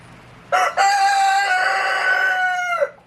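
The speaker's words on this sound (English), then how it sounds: "And my rooster says hello." A rooster crows once, loud and close, a long drawn-out call lasting over two seconds with no voices around it.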